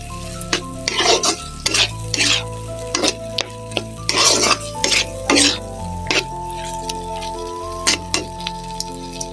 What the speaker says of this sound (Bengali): আলু ও টমেটোগুলো দিয়ে ভালোভাবে কষিয়ে নিচ্ছি।